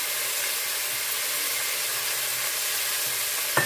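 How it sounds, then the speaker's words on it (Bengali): Washed rice and chana dal fry in a pan with whole garam masala and bay leaf, giving a continuous loud sizzling hiss with faint stirring scrapes and a brief clatter at the end. "চালটা দিলাম, ছোলার ডালটা দিয়ে দিলাম, দিয়ে এবার আমি ভালো করে এগুলোকে ভাজবো"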